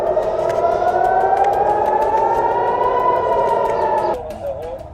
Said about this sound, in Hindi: सायरन बज उठे।